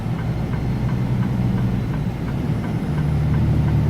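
A Freightliner truck engine drones heavily while climbing a mountain grade right after an upshift, a loud, steady low rumble with a faint pulsing throb and no voices.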